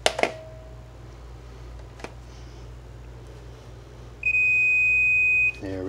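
Handheld multimeter in continuity mode gives a few short clicks and chirps, then one steady electronic beep that sounds for about a second before cutting off, close and clear over a faint hum.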